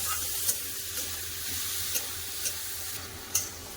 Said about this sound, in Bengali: টমেটো ভালো করে কষে দেবো